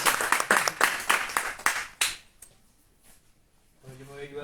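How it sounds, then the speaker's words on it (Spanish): Audience applause welcoming a speaker at a literary book presentation, dense clapping for about two seconds that fades out, followed by a voice beginning to speak. "Recibamos, con un gran aplauso"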